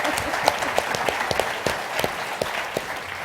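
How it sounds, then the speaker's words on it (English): Steady applause from a crowd at a 1 Million Cups pitch event in Wichita, dense clapping with a few sharper individual claps standing out, continuing throughout at moderate loudness. "let's give them a round of applause"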